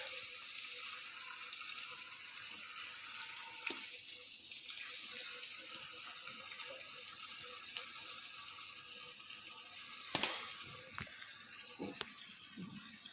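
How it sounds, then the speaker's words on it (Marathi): Steady stream of water running outdoors while garden plants are watered on a morning, fairly faint and continuous with a few brief clicks and knocks, no voices. "बाहेर झाडाला पाणी द्यायचं काम चालू आहे"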